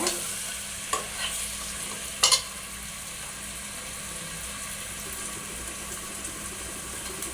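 Chicken biryani ingredients saute in a pot over a lowered flame, a soft continuous sizzle with a couple of sharp stirring clanks early on, then quiet steady frying.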